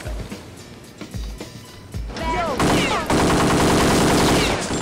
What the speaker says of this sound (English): People shooting at me.